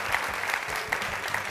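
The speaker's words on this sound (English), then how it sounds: "Nice round of applause." Audience applause for the Lexington team at a high school quiz show, a dense, steady patter of many hands clapping throughout.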